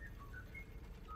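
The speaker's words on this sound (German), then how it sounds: "Der pfeift hier irgendwo." Brief whistled notes from a character in the video game Grounded, a few short tonal phrases at moderate level over a low background hum, with no talking.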